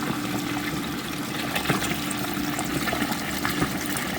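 A resin 3D printer's wash station washes a freshly printed part, making a steady sloshing, trickling churn of liquid with a faint motor hum underneath, fairly quiet and continuous.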